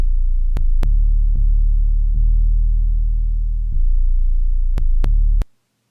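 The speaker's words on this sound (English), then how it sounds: "I'm gonna create some 808 slides. So the note will smoothly go from one note to another." Trap beat with a deep, sustained 808 bass that slides up one octave, heavy droning low end punctuated by sharp percussive hits, cutting off abruptly near the end.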